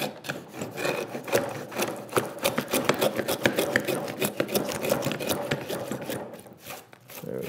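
A hand router fitted with an added wooden sole cuts wood on a workbench, giving a close, steady run of short scraping and shaving strokes with no talking.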